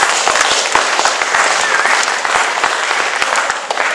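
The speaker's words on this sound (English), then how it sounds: "Big round of applause." A lecture audience at a weird-phenomena conference applauds a speaker coming on stage, with loud, dense, continuous clapping filling the whole stretch without a break.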